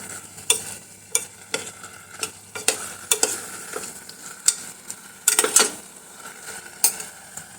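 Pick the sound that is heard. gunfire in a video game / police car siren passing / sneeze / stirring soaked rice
stirring soaked rice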